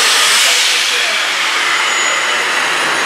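A train rushes past in a steady, loud, broadband roar that stays constant and close throughout, with no voices over it.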